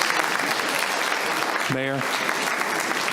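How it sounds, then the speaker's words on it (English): Applause at a city commission meeting fills the room with steady, moderately loud clapping, while a voice briefly speaks over it partway through. "If you can please give them a big round of applause."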